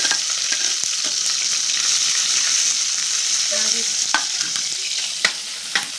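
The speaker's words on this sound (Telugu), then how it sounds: "కరివేపాకేద్దాం. తర్వాత పచ్చిమిర్చి వేసుకుందాం, ఉల్లిగడ్డలు కూడా." Curry leaves, green chillies and onions hit hot oil with a steady, close sizzle, broken by occasional sharp stirring clicks and scrapes, with no voices.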